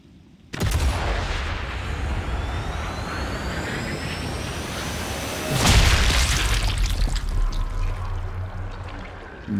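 In the video game Sniper Elite 5, a sudden loud gunshot boom is followed by a sustained roaring wash, then a second heavy blast, with rumbling noise continuing afterward and no speech.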